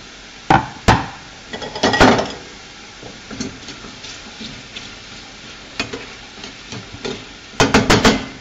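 Mushrooms seasoned with salt, black pepper and thyme sautéing in a pan, with a steady soft sizzle broken by several sharp clacks and scrapes of a utensil, close by, with a louder cluster near the end.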